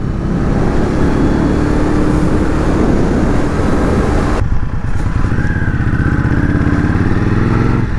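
Indian Scout Bobber twin-cylinder motorcycle on country roads, its engine droning loud and steady with wind rush, dropping briefly partway through and then pulling back up in pitch as the revs climb again.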